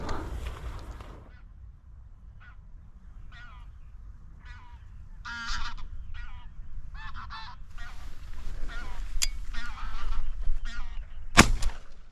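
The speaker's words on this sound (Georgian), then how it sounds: "პირველი ბატი ლანამ დაითრია დღეს." Geese honk in scattered bursts, growing louder and busier toward the end, with one sharp crack near the close.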